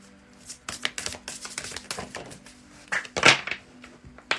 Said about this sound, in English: I'm going to have to shuffle them like this.